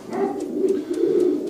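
Racing pigeons from a breeding loft coo steadily in a low, throaty, rolling drone, close and continuous throughout, with a few faint higher chirps above it.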